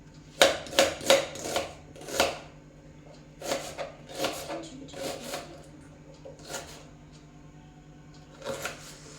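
A knife chops onions on a cutting board in quick bursts of sharp, close taps, with short pauses between the runs of strokes.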